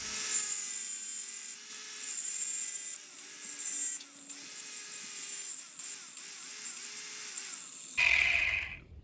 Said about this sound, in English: So when I'm cutting the link,